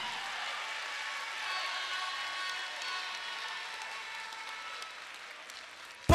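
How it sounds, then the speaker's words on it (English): Audience members at a Ghanaian political address clap in a faint, continuous patter that stays even throughout, ending with an abrupt loud burst. "if you are clapping, clap better."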